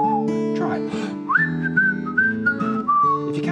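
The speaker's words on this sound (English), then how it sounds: "Whistle." A person whistles a wavering tune for several seconds, with rising and falling notes in short phrases, close and clear.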